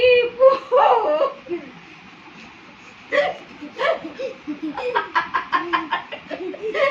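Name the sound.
child imitating a rooster crowing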